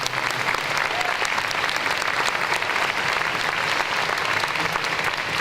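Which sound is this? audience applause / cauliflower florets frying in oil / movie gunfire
audience applause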